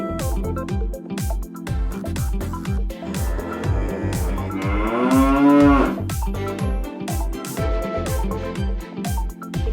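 Cattle on a farm, a bull and cows, low and mid-pitched moos over a steady pulsing rhythmic background, with one long loud moo around the middle.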